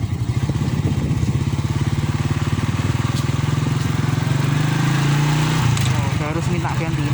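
A Honda Astrea motorcycle engine runs steadily and close up while riding, its low throbbing note holding loud throughout with a brief pitch shift near the end as the rider changes gear.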